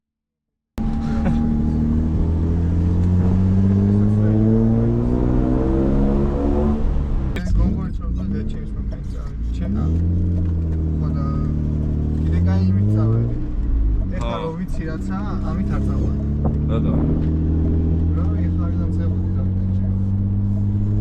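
A BMW E34 520i Touring drives through city streets, its engine holding a steady, continuous drone close by while people talk over it almost the whole time.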